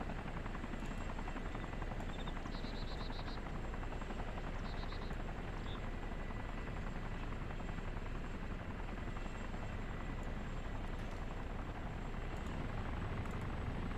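A low-flying armed helicopter in the video game DayZ, a steady, dense rotor thrum and engine drone holding constant and close for the whole stretch, with a few faint electronic beeps over it and no talk.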